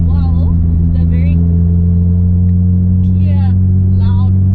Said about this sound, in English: clear, loud situation here is exhaust because I have to shout at you